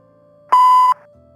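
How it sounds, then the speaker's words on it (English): A single sustained electronic voicemail beep in the video game Kathy Rain 2, a clean steady tone lasting under half a second, loud and alone, following a detective's recorded answering-machine greeting. "Please leave a message after the beep."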